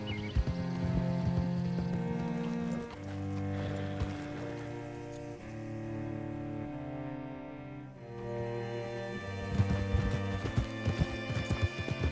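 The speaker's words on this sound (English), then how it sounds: "Hitch your horse up here." A horse gallops in Red Dead Redemption 2, steady hoofbeats under a swelling orchestral game score, with no one speaking.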